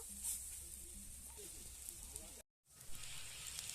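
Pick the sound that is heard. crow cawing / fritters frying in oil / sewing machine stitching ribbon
fritters frying in oil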